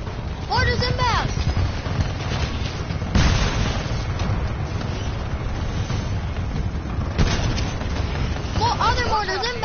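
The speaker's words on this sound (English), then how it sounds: "Mortars inbound! Mortars inbound!" Mortar explosions in the video game Titanfall, with repeated heavy booms and rumbling blasts amid dense battle noise, and urgent voices talking over the explosions throughout.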